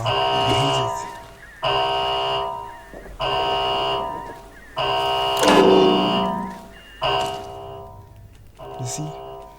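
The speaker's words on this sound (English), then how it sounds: "heard that alarm. I hate it." Alarm buzzer in the video game Atomfall sounding in repeated long tonal blasts, about six in a row separated by short gaps, loud and harmonic, with a voice talking over parts of it.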